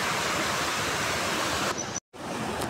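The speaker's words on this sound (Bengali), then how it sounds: "জলের আওয়াজেই বুঝতে পারছি যে স্রোতটা কতটা গভীর" Rushing water from a waterfall-fed stream at Jhalong roars as a steady, loud, broadband wash, with a brief cut near the end.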